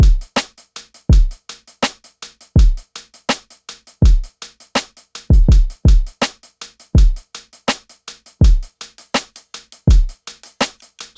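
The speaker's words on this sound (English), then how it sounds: "For the drums, I decided to use something which was pretty realistic and acoustic" A realistic acoustic drum beat of kick drum and two different hi-hats plays alone, with steady, fairly loud ticking hats over a repeating pattern of deep, punchy kick hits.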